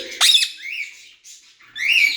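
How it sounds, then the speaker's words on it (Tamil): A peacock calling nearby, with loud, piercing, nasal squawks: a sharp cry, a shorter wavering call and another rising squawk, standing alone without talk. "மயில்"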